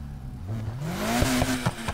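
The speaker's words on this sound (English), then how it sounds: "the exhaust sound is probably one of my favorite things." A car engine in the video game Need for Speed Heat revs up, its pitch rising steadily before dropping back with a few sharp pops and crackles from the exhaust.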